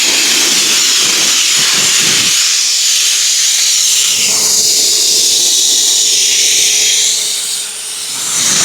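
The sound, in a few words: blower drying a car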